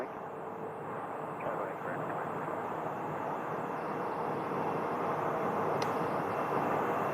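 An airliner taxis at Phoenix Sky Harbor Airport as a steady, distant jet engine drone that holds at a constant level throughout. There is no talking over it.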